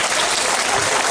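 A short, loud burst of audience applause before a film screening, dense clapping with no voices.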